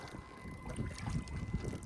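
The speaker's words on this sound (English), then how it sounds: "It's a bit windy." Steady wind roaring and buffeting a microphone outdoors on the water while kayaking, low rumbling gusts throughout with faint water sounds beneath.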